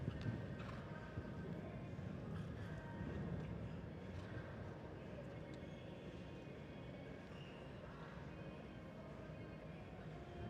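Horse hooves galloping across a show jumping arena at a World Cup competition, a faint rhythmic drumming under a steady crowd and arena murmur that continues throughout.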